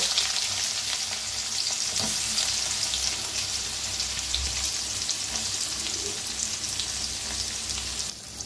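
Onion frying in hot oil with mustard seeds, cumin and asafoetida for a mushroom curry, a loud, steady, crackling sizzle that holds close and continuous for several seconds, with occasional pops and no talking.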